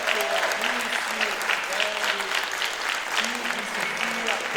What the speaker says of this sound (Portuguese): pedir uma sonora salva de palmas para todo mundo, porque acho que a gente merece